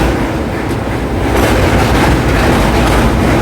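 An express train runs loud and close over the Pinakini river bridge near Nellore at night, a dense roar with rhythmic clickety-clack of wheels over rail joints, swelling slightly before cutting off abruptly.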